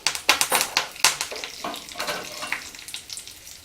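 Curry leaves and cumin seeds hitting hot oil in a pan give off sharp crackling bursts, loud early and then settling into a lighter, steadier sizzle, with no talking over it.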